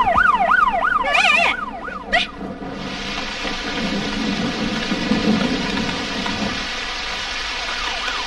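Rain falls as a dense, steady hiss in a film scene. A wailing emergency siren sounds loudly at first, then fades, leaving the constant downpour with a low thunder-like rumble underneath.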